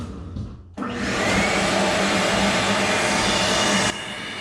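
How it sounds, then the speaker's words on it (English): A vacuum cleaner passes over wet static grass on a model railroad landscape, switching on abruptly into a loud, steady whining drone that holds for about three seconds before cutting back down. "if I hit this vacuum cleaner while it's still wet, it kind of stands all these little things back up"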